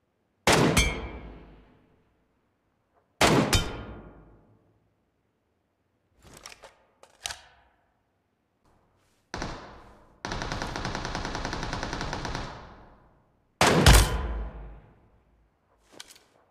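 Gunfire in the battle-royale game PUBG: several sharp single shots, each with a decaying tail, spaced apart, then a sustained automatic burst of about two seconds followed by more loud single shots, with no talk.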